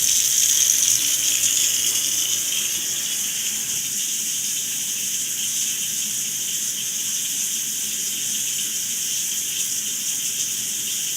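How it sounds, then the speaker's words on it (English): Water drains steadily down a bathroom sink in a newly remodeled half bathroom, a continuous close-up hiss and rush that holds at an even level for the whole stretch with no voices. "It usually takes a little longer on the sink because it doesn't have as much water going down at the sink all at once."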